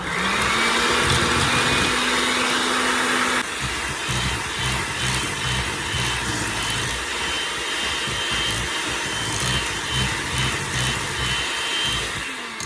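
An electric mixer whirs loudly and continuously while beating pumpkin spice cake batter until creamy, its motor pitch dropping slightly after a few seconds and then holding a steady, rough drone; no voices are heard.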